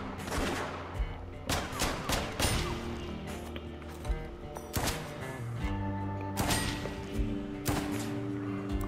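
Gunshots from the video game West of Dead ring out as a series of sharp, booming blasts, some in quick bursts, over a layer of game music and effects.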